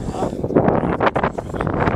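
Strong wind buffets the microphone outdoors on a road trip to Hooksiel on the North Sea coast, a continuous loud rumbling roar with gusty surges throughout.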